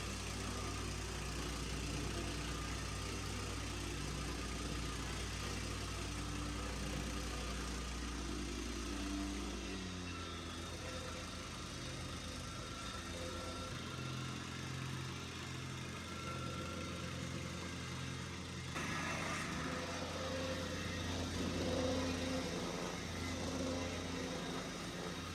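A compactor plate tamps a hardcore base for a concrete floor in a bathroom and hallway, a steady close mechanical engine drone with constant vibration that shifts in tone partway through.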